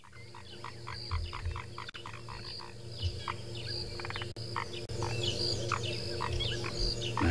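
Frogs call in a busy outdoor chorus, with repeated short croaks and trills rising over a steady bed of chirping insects and a low background hum. No one speaks.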